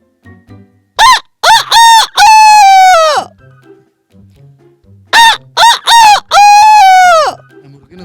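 Roosters and hens on a farm crowing loudly and close, with two long crows each led by short clucking bursts and separated by a pause, while softer clucks and faint murmuring fill the background.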